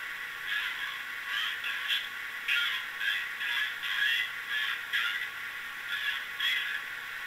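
A rhythmic, hissy whooshing from an N-scale model train sound car playing its dynamic brake effect, pulsing steadily at a moderate level with no voices.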